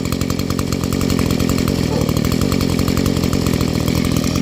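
A two-stroke chainsaw idles at about 2700 rpm on Schaeffer's 9000 oil mixed at 50:1, its engine a loud, steady, close-up buzzing putter throughout.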